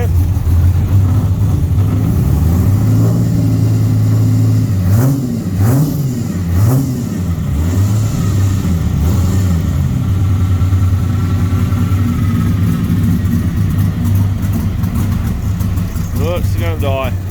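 A race car engine idles roughly and lopes up and down in uneven revs, loud and close, sagging as if about to stall, while a person talks over it.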